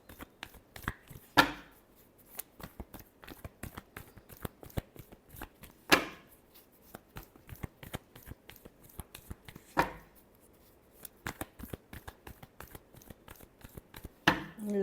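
Tarot cards being shuffled by hand: a fast run of soft riffling flicks repeated in several bursts, with sharper slaps as the deck squares up, close and fairly quiet with no talk.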